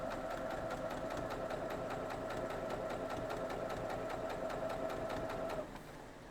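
A freshly cleaned sewing machine stitches a quilt block with diagonal seam tape. It gives a steady, close, rapid mechanical whir with a fast needle rhythm that runs for several seconds, then slows and stops near the end.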